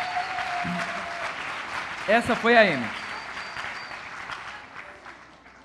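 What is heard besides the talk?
audience applause for Amy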